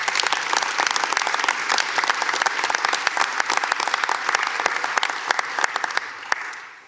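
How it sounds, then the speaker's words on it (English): Audience applause at a university Board of Regents meeting, crisp, steady clapping from a sizable room that continues evenly and dwindles to a few final claps. "let's give him a round of applause in his absence"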